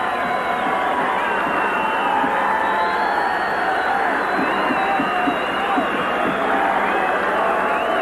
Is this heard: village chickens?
no